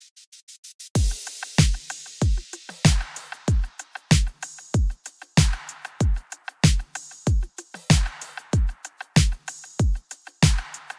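An 80s disco-pop drum pattern built in Studio One 5 plays alone: steady four-on-the-floor kicks with bright snare or clap hits and continuous hi-hats, a short sparse intro before the full groove kicks in, loud and close.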